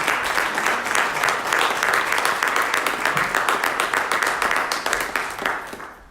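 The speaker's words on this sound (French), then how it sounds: "est-ce qu'on peut acclamer pour saluer nos bien-aimés qui nous regardent sur les réseaux sociaux?" A church congregation at a Day of Atonement service claps loudly and steadily, a dense, continuous applause filling the whole room and tapering off slightly at the end.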